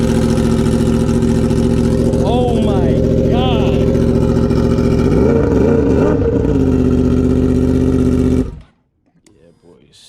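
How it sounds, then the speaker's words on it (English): 2021 Yamaha R1 with a straight mid pipe, loud and close, its engine blipped in several sharp rising revs over a steady idle before cutting off abruptly; a voice exclaims once. "this baby starting up with just a straight mid pipe"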